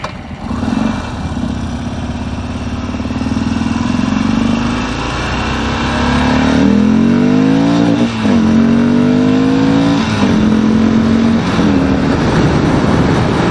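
Harley-Davidson XR1200 motorcycle engine accelerating hard through several gear changes, loud and steady with rising revs, no talk over it.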